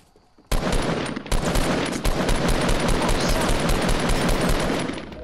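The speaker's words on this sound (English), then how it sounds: "The other guy's shooting him." Sudden onset of loud, sustained rapid gunfire in the video game Fortnite, a dense burst of rattling shots running nearly continuously for several seconds.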